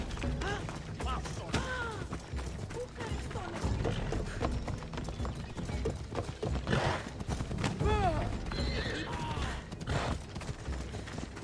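Steady clip-clop of horse hooves at a trot in Assassin's Creed Odyssey, fairly close, mixed with creaking and mechanical clatter throughout.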